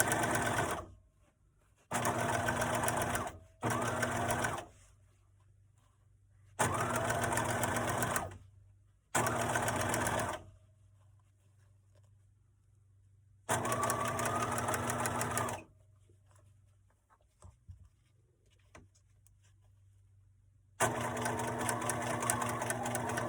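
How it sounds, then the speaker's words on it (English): A sewing machine stitches a make-up bag's lining to its outer fabric in several loud, steady bursts of rapid mechanical whirring, each lasting one to two seconds, separated by short quiet pauses. "I'm smoothing it as I'm sewing."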